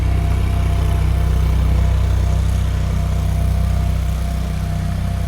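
An ESAB Ruffian 270 welder generator engine idles steadily, heard from about fifty yards away as a continuous low droning hum with no talk.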